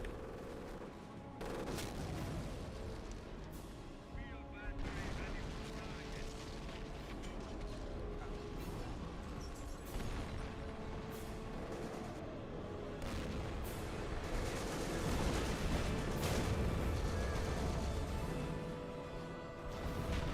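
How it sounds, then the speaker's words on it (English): Artillery bombardment from 88mm guns and mortars in a war video game: a dense, continuous roar of booming impacts and mechanical clatter, loud and sustained throughout, swelling slightly toward the end, with no talk. "Nice artillery bombardments from my 88s to help along."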